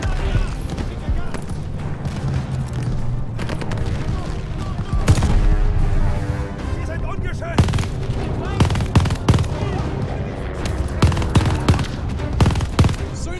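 Mixed small-arms fire and heavy booms fill a chaotic Call of Duty: Vanguard firefight, with irregular single shots and short bursts, some close and sharp, others more distant, over a dense layer of battle noise and occasional voices.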